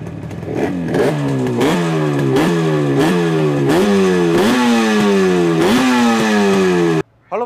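A restored 1987 Yamaha RD350 HT two-stroke motorcycle revs hard and close, its throttle blipped repeatedly in rising and falling surges with a rattly, buzzing exhaust before cutting off abruptly.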